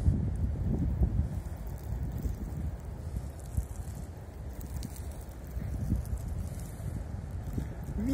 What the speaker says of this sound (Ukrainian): Вітер заважає.